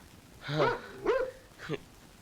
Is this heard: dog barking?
yes